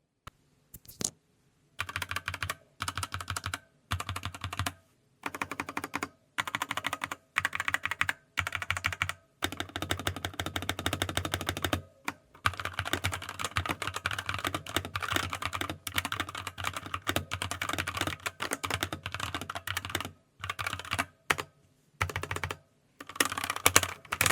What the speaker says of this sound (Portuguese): vamos fazer um teste de como esse teclado se sai e como é o som dele nessa opção estoque